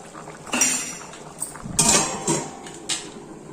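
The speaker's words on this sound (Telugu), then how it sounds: "కలుపుకొని మళ్ళీ మూత పెట్టేసుకోవాలి" Metal utensils clink against a pot of chicken roast biryani in a few short bursts of scraping and stirring, then a lid clatters back into place.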